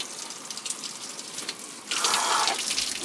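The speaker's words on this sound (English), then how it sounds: "So we now have hot showers." A hot shower running on rural off-grid land, a soft steady spray of water that suddenly grows louder and brighter partway through, with no voices.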